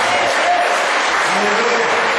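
A church congregation claps in praise during a worship service, a brief burst of dense continuous applause with faint voices mixed in.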